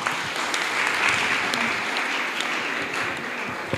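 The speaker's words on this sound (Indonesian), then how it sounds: "kasih tepuk tangan." Audience at an Islamic religious lecture claps together, a thick steady wash of applause filling the room for the whole stretch, with no break.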